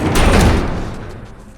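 A door in The Last of Us being barricaded shut: a loud, close slam and heavy thud of wood that then rumbles and fades over the following second.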